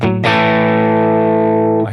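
Electric guitar played through an amplifier and recorded with the microphone off axis: a single sustained, distorted chord rings out loud and steady for nearly two seconds before a quick restrike at the end.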